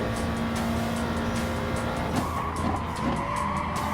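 Race car in a racing video game at Monza braking hard into a corner, engine roaring steadily then dropping in pitch as the tires skid and squeal briefly, loud and close with no talking.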